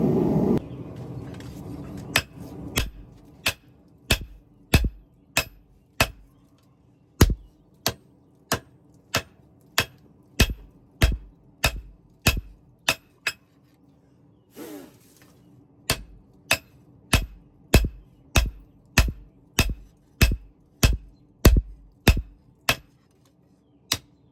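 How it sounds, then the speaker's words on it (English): Steel Damascus dagger blade hammered on an anvil: a long run of sharp, ringing metallic strikes in a fairly regular rhythm, close and loud, with one brief pause midway and no talking. "We'll go ahead and move over to the anvil and we'll hammer this thing out some."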